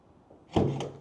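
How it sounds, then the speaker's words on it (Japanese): The trunk of a McLaren Artura Spider opening: a single close, solid thunk of the latch releasing, followed by a short mechanical hum as the lid lifts. "トランクオープン"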